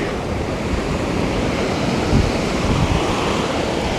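Surf breaking on a beach while metal detecting, a close, loud rush of water with wind noise and a slightly louder wave surge midway, no talk.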